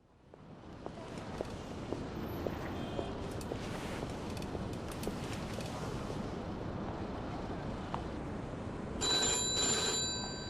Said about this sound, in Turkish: Yine telefon çalıyor